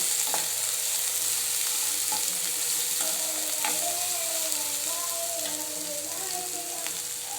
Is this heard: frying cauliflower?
yes